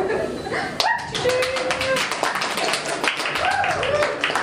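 An audience at a poetry reading in a pub applauding, giving dense, steady clapping throughout, with voices and calls mixed in under it.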